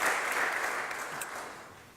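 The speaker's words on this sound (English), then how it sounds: "Give him a round of applause as well." A crowd applauds the mayor at a city press conference, a brief, steady burst of clapping that fades slightly toward the end, with no voices over it.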